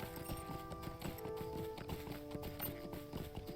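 Riding boar mount in the video game LOTRO, out in the Shire, trotting with a steady, quick patter of footfalls under layered ambient music, all fairly quiet.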